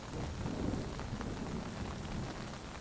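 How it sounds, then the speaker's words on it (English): Rain falling through a forest, a steady, even patter and hiss with a low rumbling undertone, continuous for the whole stretch and with no voices. "An invigorating splash of raindrops"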